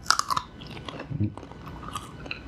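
Crunchy chewing of pecans eaten together with banana, a few close, soft bites and mashing sounds over a couple of seconds, with no talking.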